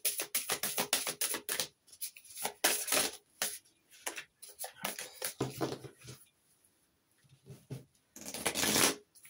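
Tarot cards being shuffled for a reading: repeated quick riffling bursts, close and crisp, with short pauses between shuffles and a longer final riffle.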